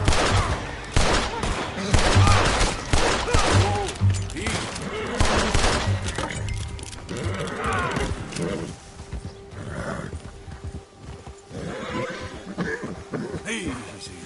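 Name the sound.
gunfire in the video game Red Dead Redemption 2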